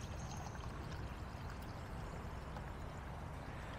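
Steaming hot water pours steadily into a container outdoors, a continuous dense rushing splash at close range with no breaks and no talking.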